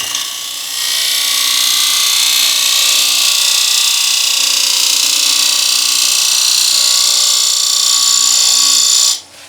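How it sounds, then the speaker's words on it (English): A woodturning gouge cuts a bowl with an undercut on a lathe, giving a steady, loud, hissing whir that holds evenly for about nine seconds before cutting off abruptly, with no voices. "we'll start cutting, and what I'm going to do is just very, very gently get the back bevel rubbing on here"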